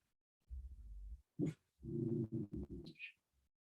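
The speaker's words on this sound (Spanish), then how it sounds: "Perdón, mi perro ladra muy fuerte." A dog barks loudly indoors during an online biology class, giving a few heavy low barks in quick succession, then a short pause and a sharper, higher yelp near the end.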